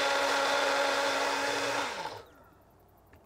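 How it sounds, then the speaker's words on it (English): A small blender whirs loudly while pureeing a roasted tomato, a steady high motor drone that holds for about two seconds, then winds down with a falling pitch into near quiet, with a faint knock at the end. "I'm just gonna have to blend one tomato at a time,"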